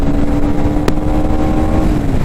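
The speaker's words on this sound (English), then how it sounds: "Let's rev it." A KTM Duke 390 motorcycle engine idles loud and close with a steady drone, and one brief sharp blip of throttle breaks through partway, with no talking.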